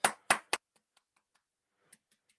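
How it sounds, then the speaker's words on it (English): Three sharp, close hand claps in quick succession, followed by a few faint scattered taps, as a small round of applause for a student in a coding class. "Everybody give Chris a round of applause."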